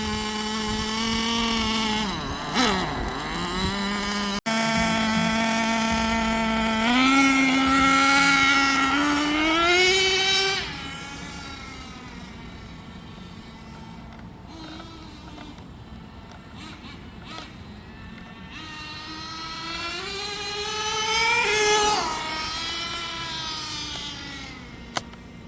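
Jato 3.3 nitro RC truck with a new motor running at full throttle along a street, a high buzzing whine that rises and falls in pitch as it speeds up, passes and fades away, then returns with another rising howl.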